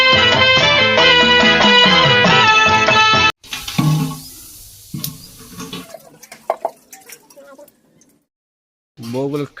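Water runs from a kitchen tap while dishes are washed during Sankranti chores, a steady loud flow that cuts off abruptly, followed by scattered clinks and splashes and another short burst of water at the end.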